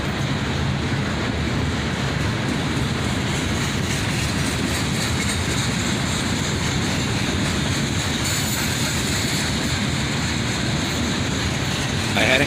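A fully loaded southbound coal train led by three locomotives, an ES44ACH, an AC44CW and an ET44AH, passes close with a continuous heavy roar of rolling wagons and a faint clickety-clack, steady throughout.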